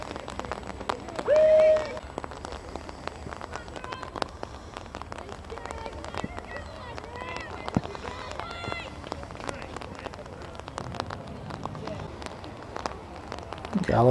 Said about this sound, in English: The rain starts to come down a little hard again.